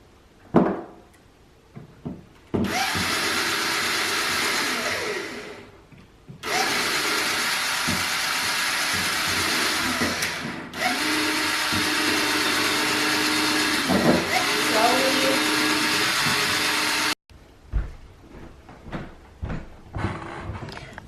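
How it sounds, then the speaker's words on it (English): A power drill boring holes into an industrial kitchen cart, loud sustained whirring bursts of several seconds each with short pauses between, close up, followed by faint handling clatter. "So all three of those holes are drilled in on three sides"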